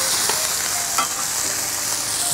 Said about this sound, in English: So we're gonna go ahead and give our eggs a flip.